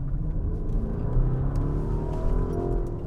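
A 2019 Lamborghini Urus SUV accelerating up a highway on-ramp, a deep steady engine rumble heard from inside the cabin, rising gently in pitch, with no talking.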